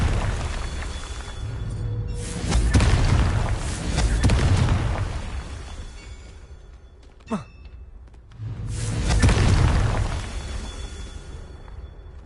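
Confringo blasting curse explosions in the Hogwarts Legacy video game, heavy booming blasts with rumbling decay, two big ones several seconds apart and a sharp whooshing zap between them.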